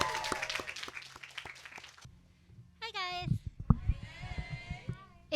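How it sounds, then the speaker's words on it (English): Clapping from a luncheon audience breaks out over chatter and cheering voices, loud and nearby, then fades into mixed talk and scattered claps. "Please give a round of applause for LBCAP's Executive Director, Marissa Seme"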